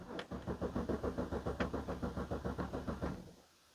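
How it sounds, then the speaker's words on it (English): A BMW E90 engine cranks steadily without firing, the starter producing a rapid, even chugging rhythm for about three seconds before cutting off, close and clear. "so just cranking, no firing, as expected"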